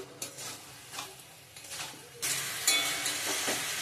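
Potato, cauliflower, drumstick and pointed gourd, already fried once, sizzle again in oil in a pan. Scattered spoon scrapes give way to a louder, steady hiss about halfway through, with no voices.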